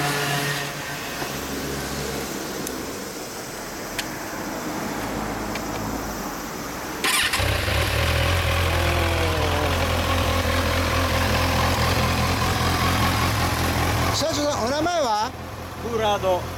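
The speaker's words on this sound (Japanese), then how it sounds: "そのままエンジンかけてもらえますか？" A 2014 Kawasaki Z1000 fires up after about seven seconds of quiet background and then idles with a steady, loud low rumble, with voices talking over it near the end.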